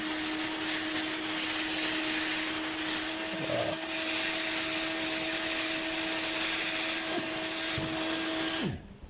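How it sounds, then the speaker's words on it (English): A hot air rework station blows air at 550 degrees while desoldering an IR port from a Spider T888 satellite receiver board, giving a steady loud whooshing hiss with a constant whine, then stopping abruptly near the end. "At 550 degrees I am blowing the air here."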